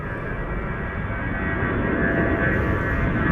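A United Boeing 767 jet airliner at Zurich airport roars steadily and loudly, a broad continuous engine rumble that swells slightly toward the end.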